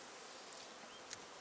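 Bees buzzing in a steady, dense hum from an opened beehive at an apiary, the warming cover and side insulation removed, with no voices.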